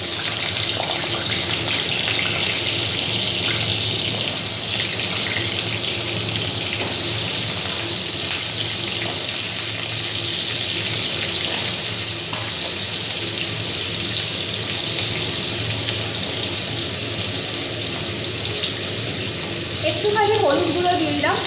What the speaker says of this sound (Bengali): আগে আলুগুলো ভাজা করি।